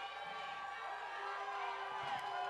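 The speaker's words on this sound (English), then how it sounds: "Crowd getting loud now." Football game crowd in the stands building to a sustained roar on third down and goal at the goal line, a dense distant wash of cheering voices.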